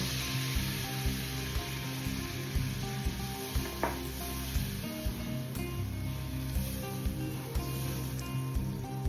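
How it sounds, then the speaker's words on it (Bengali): Mango fish curry of rohu with spices sizzles in a pan, a steady frying hiss with soft stirring scrapes as water goes in. "আম মশলার সাথে কষানো হয়ে গেলে পরিমাণ মতন জল দেব।"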